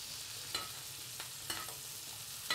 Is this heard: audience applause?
no